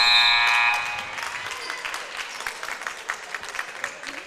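A basketball buzzer sounds at the close of a quarter in a varsity girls' high school game, a loud sustained tone for about a second that then gives way to crowd applause and noise in the gym.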